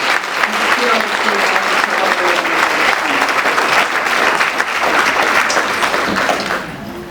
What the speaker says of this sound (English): let's all give them a round of applause for this time and skill